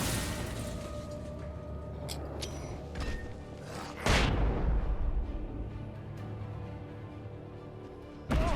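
A flashbang goes off in the Alan Wake video game, a sharp loud blast with a long rumbling tail, amid other scattered impacts and booms before and after.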